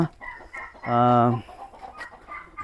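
Black chickens kept in a separate partitioned pen on a poultry farm make short, scattered clucks close by, broken by one drawn-out, harmonic call in the middle.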